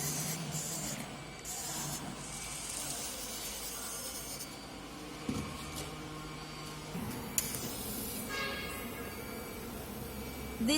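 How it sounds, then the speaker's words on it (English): A manual mist cooling sprayer on a CNC router sprays in a continuous soft hissing wash, moderately quiet, with a few small clicks and clunks and no talk. "The the mist cooling sprayer is working."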